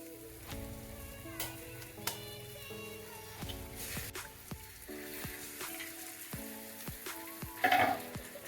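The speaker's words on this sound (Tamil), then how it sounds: "இதில் ஒரு 2 முட்டையை உடைச்சி சேர்த்துக்கலாம்." Eggs cracked into a pan of sautéed onions for hotel-style kothu parotta fry with a steady, close sizzle, broken by sharp clinks and taps of a spatula against the pan.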